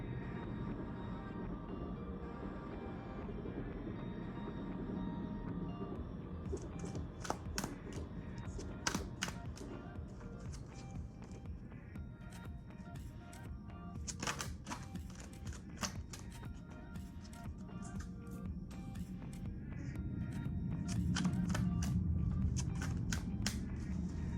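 Oracle cards for a Japanese gods reading are shuffled by hand, a run of soft riffling and clacking bursts that come and go irregularly over a low, steady room hum.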